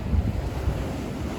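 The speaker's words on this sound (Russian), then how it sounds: "Давайте еще одну волну ловим и, наверное, завершим этот видеоролик." Storm waves surge against the Yalta embankment in Crimea at night, a heavy low rumbling wash with wind buffeting the microphone, steady and close with no voices.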